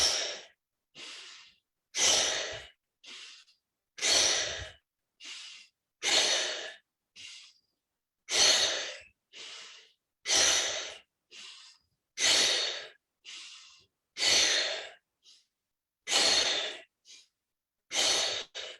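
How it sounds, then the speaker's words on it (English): Deep breathing exercise: slow, steady cycles of inhaling and exhaling, close and clear, repeating in an even rhythm with short pauses between breaths, with no talking over them. "let's do the breathing again. Second set, and go in, out."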